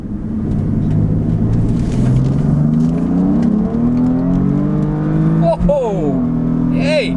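BMW F80 M3 running a Bootmod3 stage 1 map pulls hard under acceleration, engine drone rising steadily in pitch with gear shifts near the end, loud from inside the cabin with voices over it.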